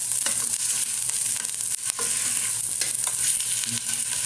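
Sliced chicken and rice being stirred in a hot frying pan for chicken adobo, a steady loud sizzle with scraping utensil movements throughout, close up and without talk.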